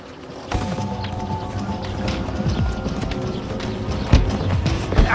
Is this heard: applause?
no